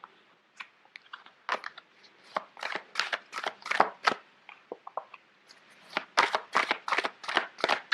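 Irregular bursts of papery slapping and rustling as large cards are shuffled up close, with short pauses between clusters of sharp flicks.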